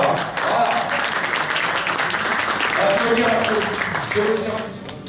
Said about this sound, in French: Allez, vos applaudissements encore pour ce terme.